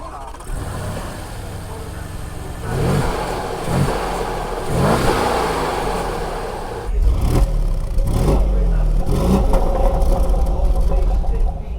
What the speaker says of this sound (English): we've got more power and a much improved sound from the V8